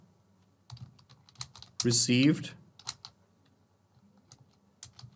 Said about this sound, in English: So here I am typing the message as new